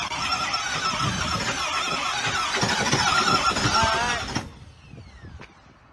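A Stellantis car engine is cranked, giving a loud, steady whirring with a high squeal for about four seconds before cutting off into near quiet.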